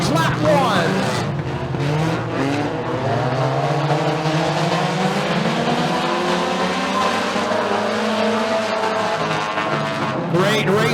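Race cars battling for the lead at Bradford Speedway, engines roaring continuously as they sweep past with rising and falling pitch, under steady race commentary.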